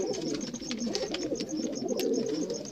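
Soft, low cooing of Rampuri pigeons runs continuously, overlapping murmurs with faint chirps above, fairly close and with no talking.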